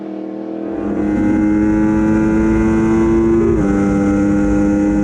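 Motorcycle ridden hard at Sydney Motorsport Park: a loud, close engine drone holds a steady high pitch, then shifts briefly midway and carries on strongly to the end.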